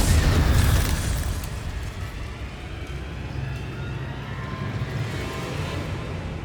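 A fire spell blast in Hogwarts Legacy, a booming burst at the start that fades into a steady rushing roar of flame and ambient game noise.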